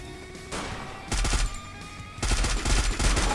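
Bursts of automatic gunfire in the shooter game Free Fire: a short volley, then two longer rapid strings of shots, loud and close, separated by brief pauses.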